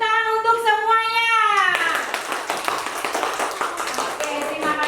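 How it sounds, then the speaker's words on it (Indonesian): A group claps for everyone at a school coaching session, brisk scattered hand claps following a sustained sung or tonal note, fairly close and lively. "Kasih tepuk tangan untuk semuanya."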